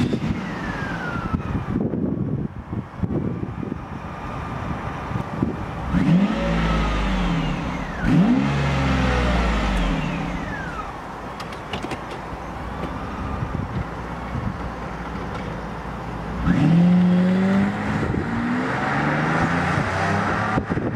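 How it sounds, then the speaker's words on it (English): A 1996 Mercedes-Benz S600 W140 with its V12 engine cranks and fires up, then drives off, the engine note rising and falling through loud, close revving acceleration with no talking. "might as well start it up and take it for a short drive"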